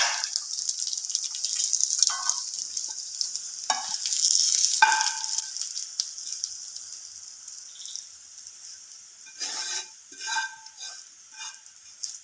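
Chicken frying in a pan as it is stirred: bright, hissing sizzle with several loud scrape-and-stir bursts, fading quieter midway before a few more stirring clatters near the end, close up with no voices.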